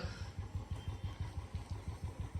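A motorcycle engine idles nearby with a steady, rapid, even putter of low thumps, fairly quiet and alone.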